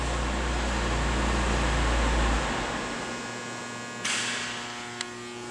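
Overhead lights drone with a steady electrical hum throughout, a low buzzing tone, fairly loud and constant, with no voices.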